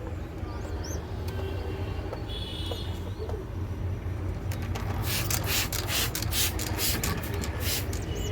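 Pet pigeons, including Akash and Andra breeds, coo low and steadily in a loft, while rustling and scraping noises break in during the second half.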